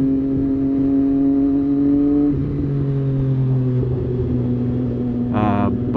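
Triumph Street Triple 765 RS motorcycle engine holding a steady rev, pitch dropping slightly then settling, with a rough rumbling texture and a brief higher burst near the end, heard close up.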